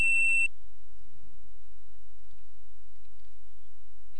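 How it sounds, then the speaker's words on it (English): A single short, sharp electronic beep from a voting machine at a polling station, heard alone at the start and followed by faint low hum and quiet clicks. "you can hear the beep sound"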